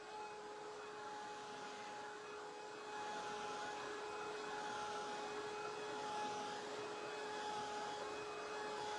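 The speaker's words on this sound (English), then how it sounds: "This little craft" A small handheld craft heat dryer runs steadily at close range, a continuous whirring hiss with a faint tonal whine, slightly louder partway through, with no talking.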